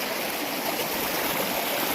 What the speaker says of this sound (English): I thank God that our river is running.